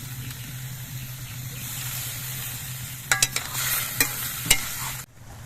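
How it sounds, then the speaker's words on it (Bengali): Sizzling in a pan of cooking leafy greens with potatoes, steady frying hiss with a low hum, then a few sharp clatters near the end before a sudden drop to quiet; no talking. "এই জন্য আমি অল্প একটু জল দিয়ে দিচ্ছি খুব অল্প পরিমাণে জলটা দিতে হবে"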